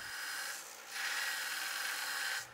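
A Harbor Freight 1x30 belt grinder grinding a rusty old file, a steady abrasive rasp that runs continuously, dips briefly, then resumes at full strength close up.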